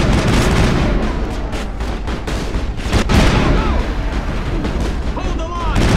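Sustained gunfire in the Mass Effect video game, dense rapid bursts mixed with heavy impacts and blasts, loud and continuous, with voices shouting over the battle.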